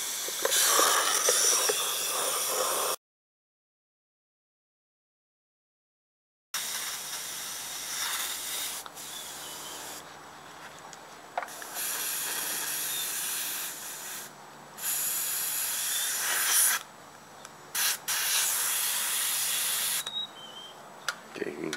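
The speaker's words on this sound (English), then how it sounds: "we will put the big jar on and take my spray bucket" An airbrush spray gun blasts cleaner into a spray bucket, a steady broadband hiss in long bursts separated by short pauses and one silent gap, fairly close.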